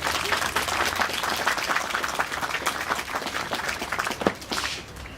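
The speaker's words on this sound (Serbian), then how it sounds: "ajmo jedan aplauz za njega." A crowd at a gathering applauds, steady many-handed clapping at moderate distance that holds for several seconds with a few sharper single claps standing out near the end.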